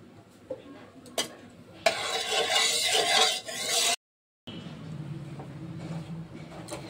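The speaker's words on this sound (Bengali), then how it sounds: "কড়া বসিয়ে দিয়েছি আর এবার দিয়ে দেবো রিফাইন তেল" A wok set on the stove with refined oil poured in: light metallic clinks and knocks, then a louder rushing, sizzling burst for about two seconds, a brief silent gap, and a quieter rumbling hiss afterward.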